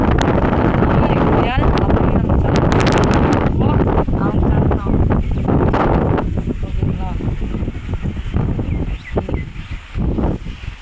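Strong wind buffets the microphone in a rural village, a loud, gusty rumble that eases slightly toward the end, while people talk over it.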